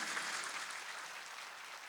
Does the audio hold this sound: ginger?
no